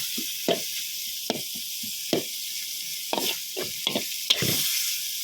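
Cooked jaew bong chili paste with minced pork being stir-fried in a pan: irregular scraping and stirring strokes, about eight of them, over a steady low sizzle, close and moderately loud, with no talking.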